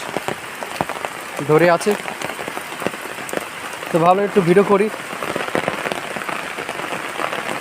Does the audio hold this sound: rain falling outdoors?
yes